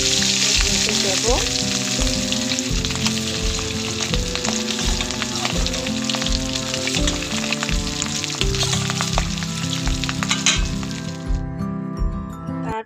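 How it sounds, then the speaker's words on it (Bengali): Fish fries in hot oil in a kadai wok, a loud constant sizzle with crackles and occasional metal clinks throughout. Near the end the frying fades out. A voice says one short word. "এটাকেও ভালো করে ভেজে নিব। আরেকটা ভেজে আমি আরও দিব মাছগুলোকে।"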